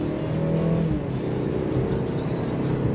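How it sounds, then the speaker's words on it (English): A Mercedes C43 AMG with a four-cylinder engine runs steadily at close range, its engine note a continuous drone with a faint whir and no one speaking. "It definitely sounds like a 4-cylinder"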